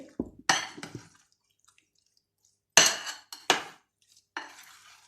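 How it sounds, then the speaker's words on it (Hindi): A spoon clinks and scrapes against a bowl while chickpea chaat with potatoes, tamarind chutney and chaat masala is mixed, coming in short bursts with quiet pauses between. "अब इन सबको मैं मिक्स करूँगी"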